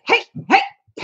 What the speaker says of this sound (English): Looks like he's pulling up, which means the dogs are going to bark.